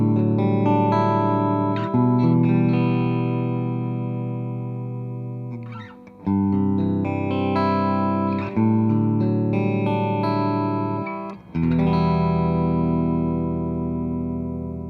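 Electric guitar played through an Orange Rocker 32 amplifier, long sustained chords that ring out and decay, struck anew about every two to four seconds, close and full with no talking.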